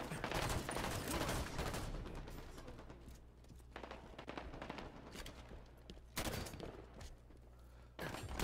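Dense, continuous gunfire from the Halo 5 video game, with repeated heavy blasts and bursts layered over a low steady hum, loud from start to finish.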